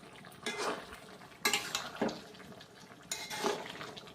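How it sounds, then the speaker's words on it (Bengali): A spatula stirs pre-fried puti fish with potol (pointed gourd) in a pan, giving three bursts of scraping and rattling against the metal with faint sizzling between them; no voices. "মাছগুলো দেওয়ার পরে একটু ভালো করে নেড়ে চেড়ে নিতে হবে"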